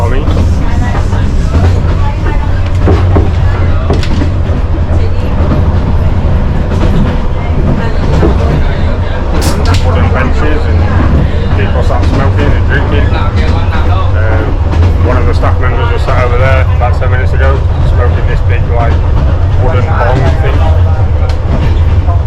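A sleeper train in Vietnam rumbles steadily from inside its rusty restaurant car, a loud continuous low drone with rattles and clatter throughout, under occasional speech.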